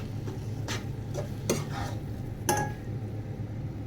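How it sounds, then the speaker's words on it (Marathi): A spoon scrapes and stirs vermicelli upma in a pan while lemon juice is mixed in, giving a few clinking strokes over a steady low hum. "हा लिंबू आपल्याला वरतून याच्यामध्ये असं छान पिळून घ्यायचं आहे मिक्स करून घ्यायचं सगळं"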